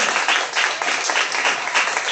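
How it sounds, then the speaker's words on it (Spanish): A church congregation claps hard, with dense, steady applause filling the whole short stretch. "denle fuerte las palmas para Elohim"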